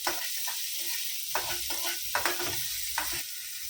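Onions frying with salt in a pan with a little oil, a steady sizzle under repeated stirring scrapes that come in short bursts, close and moderately loud, with no voices.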